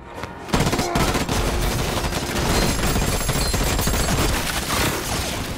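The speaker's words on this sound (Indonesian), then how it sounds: "datang lagi beberapa musuh yang langsung memberondong Bastian dengan tembakan" Sustained automatic gunfire in a film rattles continuously in loud rapid bursts, dense and close, with no pauses for several seconds.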